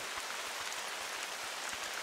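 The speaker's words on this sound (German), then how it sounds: "Ja, es regnet wieder" Steady rain falls in the hunting video game The Hunter: Call of the Wild, a soft, even hiss that continues without a break and stays fairly quiet throughout.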